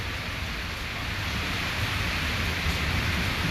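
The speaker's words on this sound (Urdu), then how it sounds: "تیز بارش ہے 2 گھنٹوں سے" Torrential rain pours down in Bahria Town, Lahore during a cloudburst, a dense, loud and unbroken hiss with no voices.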